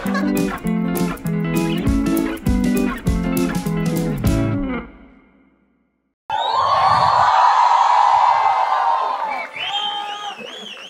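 A stand-up comedy crowd shouts and cheers loudly in a sustained roar with rising whoops, following an earlier stretch of rhythmic noise that stops abruptly before the crowd swells, then tapers off as a voice speaks.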